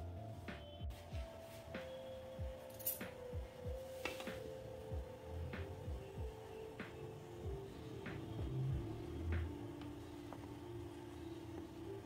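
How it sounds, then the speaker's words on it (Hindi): A utensil scrapes thickened milk cream off the sides of a cooking pan while making peda, giving quiet, repeated metallic scrapes and light clinks at an uneven pace. "साइड से जितनी भी मलाई लग रही है उसे छुड़ा छुड़ा करके दूध में डालते जाएंगे"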